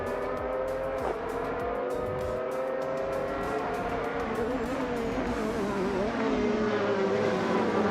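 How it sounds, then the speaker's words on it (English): Race cars roar together at the start of a race on the Mugello Short circuit in a racing video game, a dense, steady engine drone with shifting pitches and no talk. "the race kicks off at Mugello Short"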